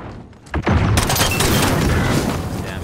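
Semi-automatic gun firing in a video game: a sharp boom then a dense, sustained burst of rapid shots, loud and close, with faint talk underneath.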